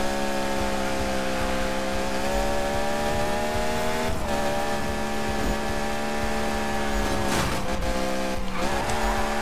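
Beck Kustoms F132 drifting in Need for Speed 2015: a loud, sustained engine howl with shifting pitch, overlaid by scrubbing tire squeal and brief bursts of skid noise, no voices.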